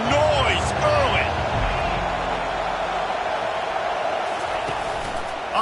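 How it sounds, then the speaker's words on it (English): A college football stadium crowd at an East Carolina (ECU) NCAA game roars in a steady, dense wash, with a commentator's voice briefly over it at the start. "This crowd bringing the energy and noise early."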